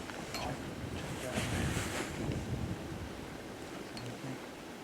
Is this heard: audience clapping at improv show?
no